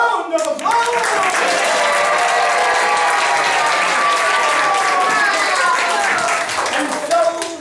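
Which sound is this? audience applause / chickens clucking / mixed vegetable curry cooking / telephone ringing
audience applause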